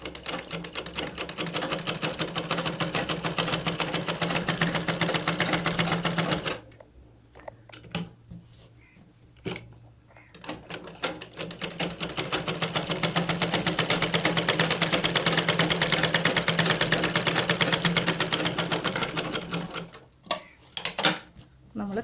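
A sewing machine stitches a canvas-lined churidar neckline in two long, fast, steady runs, loud and close. Between them is a quiet pause with sparse handling clicks, and a few more clicks come at the end.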